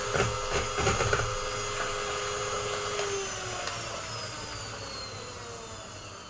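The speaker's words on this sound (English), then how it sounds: "We all need a planetary mixer." A planetary mixer whirring at home while tofu pudding and stinky tofu are being made, a steady high motor whine with clattering bursts at the start and a falling tone as it settles, without talk.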